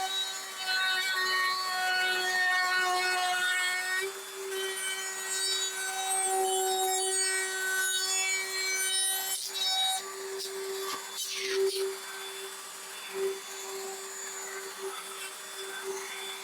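A power tool cuts a 6mm-deep pass across a sacrificial strip for a multifunction table, a loud, steady high-pitched whine over a rushing extraction roar, with the pitch dipping and shifting as the cut moves along, no talk.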